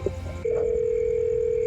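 A telephone sounds with a short tone followed by a steady, continuous dial tone, close and clear, with no talking.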